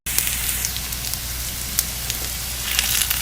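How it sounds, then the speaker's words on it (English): Salmon patties frying in oil in a pan give a steady, close sizzle with faint crackles and pops throughout, and no voices. "I made our patties, put some oil, and I'm gonna let it fry until they're nice and brown"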